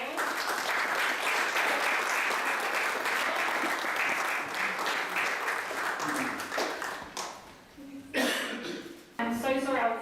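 Audience applause at a Houses of Parliament award ceremony for the social impact icon of the year, loud continuous clapping for several seconds that fades as a few voices and a speaker come in near the end.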